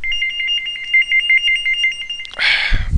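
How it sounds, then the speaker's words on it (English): A cell phone's text-to-speech call alert plays as a steady beeping electronic tone, repeating rhythmically and fairly loud for over two seconds, then cut off by a burst of rustling handling noise. "That's the text-to-speech engine on my cell phone"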